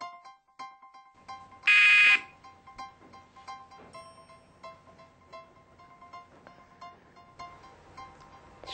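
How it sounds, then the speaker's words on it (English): A quiz buzzer gives a single short, loud, flat blast early on, standing out against faint tonal background sounds. "We'll start at the sound of the buzzer."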